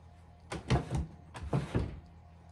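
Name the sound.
pull-out drawer of antique hoosier cabinet opening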